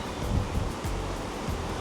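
Rough open-ocean waves seen from the deck of a cruise ship, a steady broadband wash of surf and wind noise with slow surges, continuous and fairly loud.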